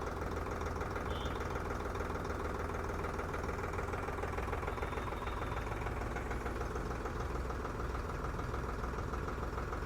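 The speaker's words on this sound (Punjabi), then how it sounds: "ਟਰੈਕਟਰ ਦੀ ਸਾਊਂਡ ਸੁਣੋ ਕਿੰਨੀ ਪਿਆਰੀ ਹੈ" A tractor engine idles close by, a steady low rumble with a regular chugging knock that holds at an even level for the whole stretch, with no voices.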